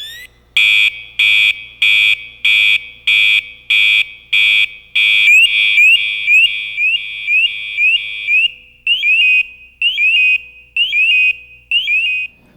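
A firefighter's PASS device sounds a loud electronic alarm, first a run of evenly spaced shrill beeps, then a rising warbling chirp pattern repeating in bursts.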